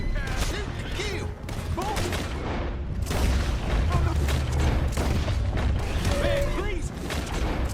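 Gunfire in the video game Red Dead Redemption 2, a steady volley of shots and booms with loud bursts throughout, mixed with shouting voices and chaotic background commotion.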